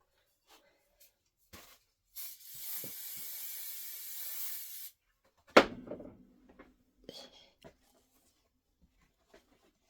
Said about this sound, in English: I'm going to go ahead and spray it